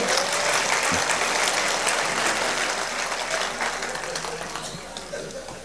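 An audience clapping at a Hindi comic poetry gathering, loud sustained applause from a large crowd that slowly thins and fades toward the end.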